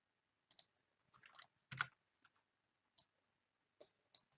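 Sharp, faint mouse and keyboard clicks while drawing in Onshape CAD, scattered single and paired taps with near-silence between them and no voices.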